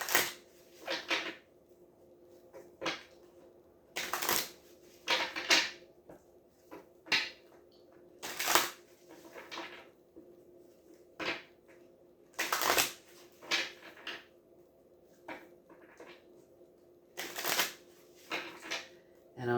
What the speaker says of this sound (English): And I'll shuffle them one more time.